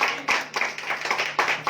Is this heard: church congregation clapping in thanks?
yes